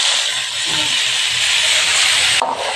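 Bitter gourd hits hot oil in a pan for frying, setting off a loud, close, continuous sizzling hiss that holds steady for a couple of seconds before dropping off sharply.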